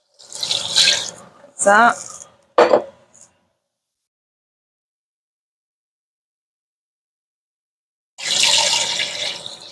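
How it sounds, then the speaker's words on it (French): Beef broth pours into a pot for onion soup in a short splashing burst near the end, after a few spoken words and a long quiet stretch. "on ajoute nos 6 tasses de bouillon"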